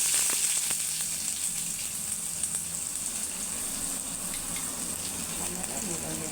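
Onions dropped into hot oil frying in a home kitchen, a steady close sizzle with faint crackle and occasional stirring, no talking.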